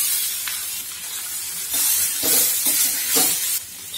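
Boiled green gram tipped into a hot pan of fried green chillies sets off a continuous loud hiss and sizzle, with soft stirring scrapes over the top.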